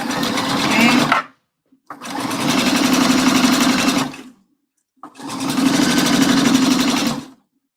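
A sewing machine stitches the seam of a round tailor's pressing ham in three steady whirring bursts of about one to three seconds each, separated by short pauses, loud and close with no talk.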